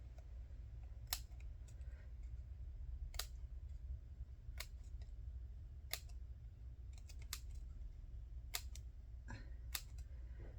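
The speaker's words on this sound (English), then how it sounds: "Now what I'm gonna do is cut these because they're here already." Scissors snip through paper for a junk journal in a quiet room, giving a string of sharp, irregular clicks spaced a second or so apart over a low steady hum.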